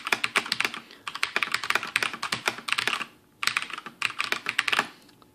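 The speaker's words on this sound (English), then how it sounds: "Typing aggressively with bottoming out." Aggressive, fast typing on a Rosewill RGB80 tenkeyless keyboard with Cherry MX Brown switches, keys bottoming out in dense clacking bursts with a brief pause midway, close and loud.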